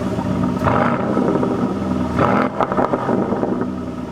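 An Aston Martin DB11 engine revs in short blips, a loud rumbling roar rising and falling twice with some mechanical clatter in between.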